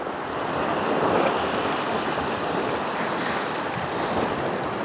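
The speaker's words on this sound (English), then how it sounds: "Let's wait for one more wave to come in." Sea waves break steadily on a Malta beach, a loud continuous surf roar with wind buffeting the microphone and no voices.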